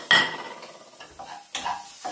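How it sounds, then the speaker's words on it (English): Sliced onion drops into a wok for a chicken curry, giving a short clattering hit followed by a light sizzle and scraping, with a second stir-like scrape near the end. "I'm going to put some onion, which I have just cut up and sliced into pieces. So that goes into your wok first."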